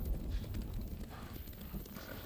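A horse's hooves clip-clop at a steady trot in the samurai action game Ghost of Tsushima, the rhythmic beats close and continuous over a low rumble of game ambience.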